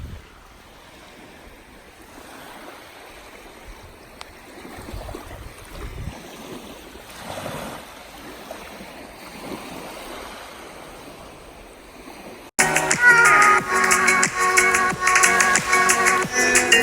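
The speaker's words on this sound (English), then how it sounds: "you kind of get the sound of the ocean" Ocean waves wash softly in the distance on a sandy beach under a steady outdoor hiss, followed by a louder, busier stretch of noise near the end.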